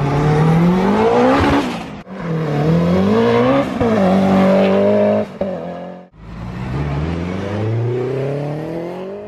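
Rover Metro with a 500+ bhp Honda K20 engine and a baffled exhaust revs hard in three long pulls, the pitch rising with each, with a sharp drop-off between them and heard up close.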